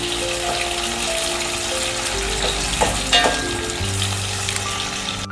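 Pieces of elephant foot yam roast to a crisp in an oiled pan with a loud, continuous sizzle and crackle, broken by a few sharper scrapes of stirring near the middle, with no one talking.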